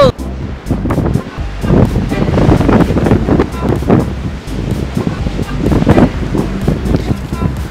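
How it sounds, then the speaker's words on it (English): Strong wind gusts blow through trees during a destructive windstorm in Denver, a loud, continuous roar with buffeting surges against the microphone throughout. "That last gust, I thought that tree was going over."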